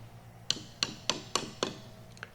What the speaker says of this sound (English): I use a plastic hammer.